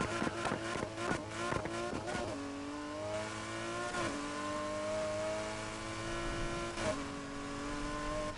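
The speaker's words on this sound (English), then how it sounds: "Yeah, it sounds like a V12." Lamborghini Aventador V12 engine in Need for Speed Heat, a burst of sharp shifts and pops giving way to a long rising rev that climbs steadily, loud and close, with no talk.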